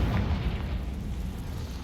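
A Confringo spell explosion in Hogwarts Legacy, a deep muffled boom that swells at once and rumbles on for under two seconds.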